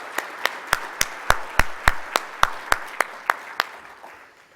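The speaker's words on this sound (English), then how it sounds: "a round of applause for everybody who contributed to this" Scattered handclaps from a small audience at a May 2019 plenary meeting: about fifteen sharp, separate claps at an uneven pace, fairly close, easing off toward the end with no talk over them.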